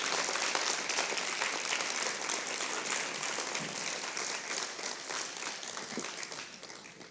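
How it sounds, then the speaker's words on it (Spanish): A church congregation applauds steadily for several seconds, a dense, sustained wash of clapping from many hands in a large room, fading slightly toward the end with no speech over it. "Dale un aplauso a Jesús"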